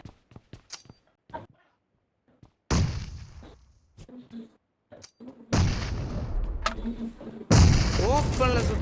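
Bursts of gunfire and explosive booms from the mobile battle royale game PUBG Mobile, with sharp isolated shots early on, then dense loud volleys of firing and impacts that continue to the end.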